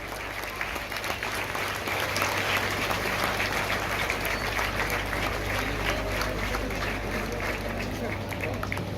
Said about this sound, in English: please stand and give a big round of applause to the 99 graduates of this